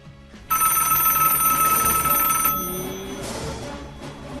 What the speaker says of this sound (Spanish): en una tiene más protagonismo el ringtone y que el sonido de Star Wars, incluso se escucha un poco acelerado